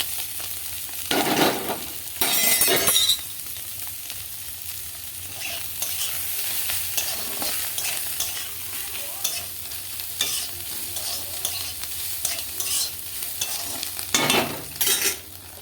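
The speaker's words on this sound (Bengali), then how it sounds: "এই পাস্তাগুলো একসঙ্গে মিশিয়ে নিচ্ছি" Vegetables and pasta are stirred and fried together in a pan, giving a continuous sizzle with scraping spoon strokes and louder stirring bursts near the start and end. No voices are heard.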